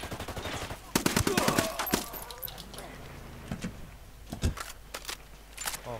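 Gunfire in Ghost Recon Wildlands, a quick rattling burst of rapid shots followed by scattered single cracks and clanks, heard under someone talking.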